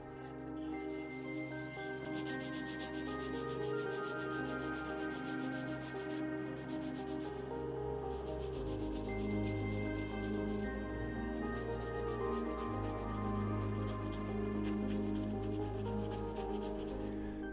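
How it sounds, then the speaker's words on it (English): Sandpaper rubs over the hand-sawn edges of plywood to smooth them and bevel the corners, giving a continuous, close scratching with steady back-and-forth strokes that lasts the whole stretch. "I'm removing imperfections and bevel edges with a sandpaper."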